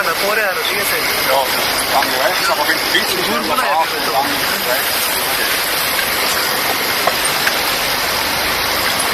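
A waterfall in Zurich, Switzerland, heard from close by, makes a steady, loud rushing roar of falling water. Voices talk over it during the first few seconds.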